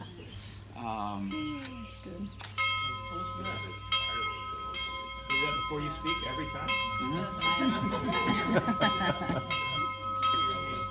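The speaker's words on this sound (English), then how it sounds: "I love church bells. Ring them bells." Church bells ring repeatedly in Israel in a steady, resonant peal, with a person speaking briefly near the start before the ringing takes over.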